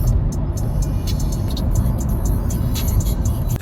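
Car interior while driving through heavy traffic on the right side of the road in Cyprus, a steady engine and road rumble with faint passing traffic around.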